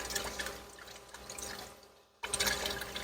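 Bean sprouts get a rinse with running water, a steady splashing rush that briefly cuts out and then surges back.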